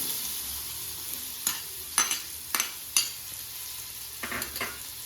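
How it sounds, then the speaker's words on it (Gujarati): Bitter gourd and onion fry in a pan with a continuous hiss, punctuated by several sharp scraping stirs of a spatula at irregular intervals; no one speaks. "કારેલા અને ડુંગળી એડ કરી દઈશું"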